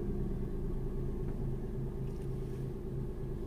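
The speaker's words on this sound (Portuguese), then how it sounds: "Paro o carro aqui na rua lateral" A car engine rumbling at low idle while parking on a side street, a steady near drone with a faint faster pulse running through it and no talk.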